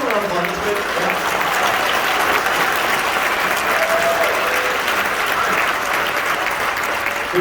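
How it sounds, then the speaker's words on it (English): Dense, sustained applause from an audience after a school band concert, loud and continuous throughout with a few voices mixed in. "Let's go around applause."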